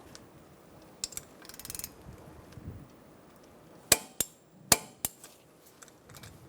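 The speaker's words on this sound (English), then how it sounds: "We're going to torque this brake hose to the caliper at 30 foot-pounds." A torque wrench tightening a brake hose bolt to the caliper of a 2013-2022 Buick Encore to 30 foot-pounds. A brief ratcheting burst comes first, then several crisp metallic clicks close by in a quiet workshop.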